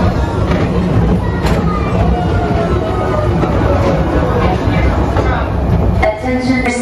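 Express train at Magic Kingdom rolling past with a steady rumbling rattle and clatter of wheels, close and loud throughout, joined near the end by a brief tonal sound and faint background voices.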